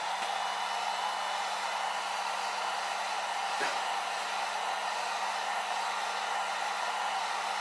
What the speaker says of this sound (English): I'm just putting on the heat gun on low.